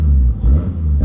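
A big-turbo 1JZ engine in a Toyota Chaser rumbles loudly with a low, throaty idle and a slight rev for about a second, heard close and alone.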